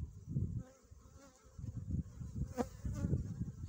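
Honeybees buzz steadily around an open beehive being split on a sunny February day, a close, continuous drone that swells and dips in intensity.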